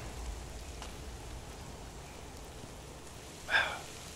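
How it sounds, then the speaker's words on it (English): Steady rain falls in the modded video game Fallout 4, a soft, even hiss that stays faint and continuous, with one brief, sharp chirp near the end. "I wish the rain would let up"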